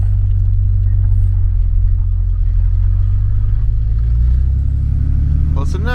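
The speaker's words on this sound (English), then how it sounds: "See if we can pull out the driveway here without wiping out anything." A tow truck pulls out of a driveway, its engine droning loud and close in a steady low rumble that grows toward the end, with a voice speaking over it.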